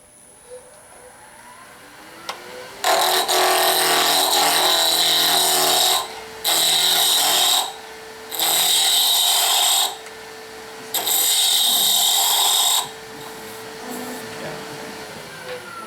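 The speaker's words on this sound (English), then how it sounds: "And this I can turn faster." A wood lathe spins a walnut Christmas ornament while the tool cuts, four loud sustained bursts of whirring, scraping sound separated by brief quieter gaps, close up over a constant low motor hum, with no one speaking.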